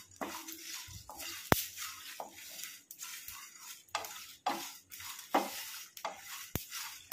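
Roasted garam masala spices stirred in a pan with irregular scraping sweeps and faint sizzling, close and quiet, punctuated by a few sharp metallic clicks of the utensil against the pan.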